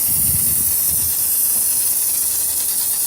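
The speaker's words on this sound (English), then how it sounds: "let's get this pressurized, apply some more snow foam, all-purpose cleaner" A pressurized snow foam sprayer hisses loudly and continuously as it coats a car with foam and all-purpose cleaner outdoors, a close, steady spray with a few low thumps at the start.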